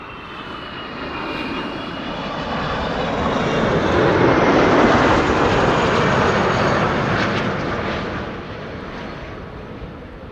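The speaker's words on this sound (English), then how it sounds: "This is Delta Airlines Flight 74, arriving from Atlanta, Georgia. It is an A330 today" A Delta Air Lines Airbus A330, 17 years old, landing at Amsterdam Schiphol from Atlanta, Georgia, its deep engine roar rising to a loud close pass midway and then easing off.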